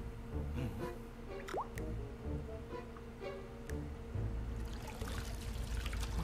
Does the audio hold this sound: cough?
no